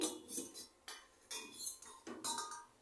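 A metal pot lid is lifted and handled after boiling stuffed chicken bread on a gas stove, producing several quiet clinks and clattering taps, close and sparse, with no talking.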